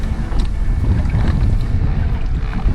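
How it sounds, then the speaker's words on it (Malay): Strong wind roars continuously across the microphone on a kayak out on open water during jig fishing, a loud, rough buffeting with faint water noise underneath. "Takut angin kuat tu."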